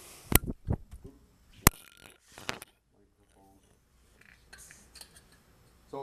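Tin snips cutting metal drywall corner bead, a series of sharp, close snipping clicks in uneven bursts with quiet gaps between cuts.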